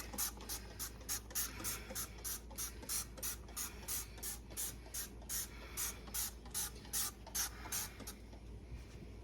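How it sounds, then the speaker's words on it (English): Rapid bursts of cleaner sprayed from a trigger bottle onto a stove, about two dozen quick hissing pumps in a steady rhythm, close up with no talking. "let's spray this off"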